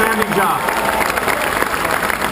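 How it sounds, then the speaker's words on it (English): An audience applauds a local sculptor at an introduction event in Baltimore, with a dense, steady wash of clapping that continues over voices talking throughout. "give him a round of applause"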